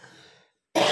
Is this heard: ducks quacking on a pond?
no